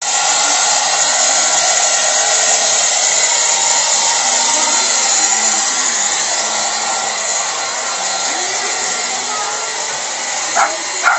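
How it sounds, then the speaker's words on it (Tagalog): A blow dryer roars continuously at close range while drying a dog's coat after a bath, a steady loud whoosh of air throughout, with a faint bark or voice near the end. "Ayaw niya sa ingay ng blower."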